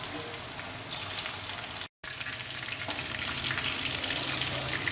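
Rohu fish pieces fry in hot oil for a fish curry, a loud, dense, continuous sizzle and crackle close up, broken by one brief silent gap.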